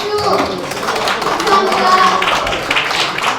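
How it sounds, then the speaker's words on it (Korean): Clapping from a symposium audience on carbon-emission reduction, steady and moderately loud for the full stretch, with a murmur of voices mixed in. "우리 감사의 박수를 크게 쳐주시기 부탁드립니다"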